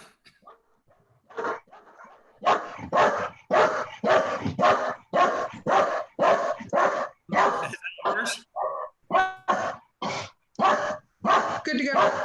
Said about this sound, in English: Is that your dog, Arch?